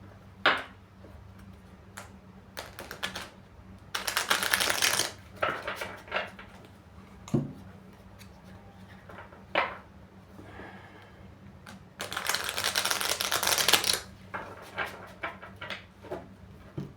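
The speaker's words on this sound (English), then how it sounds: "Let's give this an extra shuffle." Two bursts of crisp, rapid riffling flutter as a deck of playing cards is shuffled, separated by scattered light taps and clicks in a quiet room.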